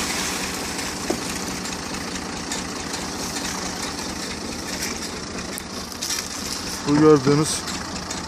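A motor vehicle engine carrying a water tank idles steadily in a village field during beet leaf spraying, a continuous low drone running under a man's speech, with a brief louder burst near the end.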